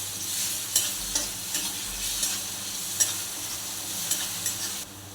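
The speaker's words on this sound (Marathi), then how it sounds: "तेलामध्ये परतून घेऊ।" Ginger garlic paste with onion sautés in oil for a spicy capsicum dish, a steady close sizzle broken by several sharp spatula scrapes and taps.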